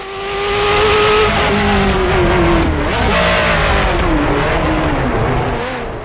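A Ferrari F40 Competizione in a racing video game mod screams at high revs, its engine rising and dropping through gear changes with tire squeal as the car slides, loud and continuous.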